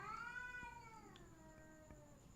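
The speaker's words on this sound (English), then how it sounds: "You hear that cat?" A cat meows in a long, drawn-out wail that slowly falls in pitch, followed by a couple of short, fainter mews, set against a steady background hum.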